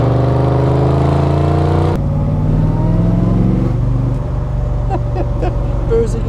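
A 1972 De Tomaso Pantera with a 5.8-litre V8 and 350 hp runs loud and close, a steady throbbing drone with a sharp blip partway through, then the pitch eases and wavers.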